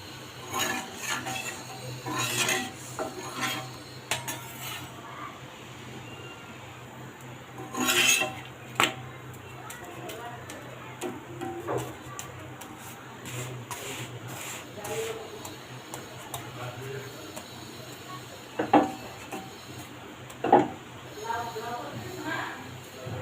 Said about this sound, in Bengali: আর এরকম করে আমি সবগুলো রুটি ভেজে নেব